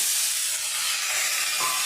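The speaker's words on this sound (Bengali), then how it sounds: "কড়াইয়ের মধ্যে দিয়ে দিচ্ছি এবং শুনতে দিয়ে খুব ভালোভাবে এগুলোকে ভেজে নেব" Bottle gourd greens tossed into hot mustard oil in a wok hiss and sizzle in a continuous, bright wash of sound throughout, no voices.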